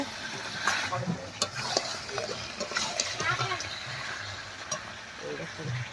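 Mutton with potatoes sautés in a pot over a clay stove, with a low sizzle and repeated scraping stirs, and a voice faintly in the background.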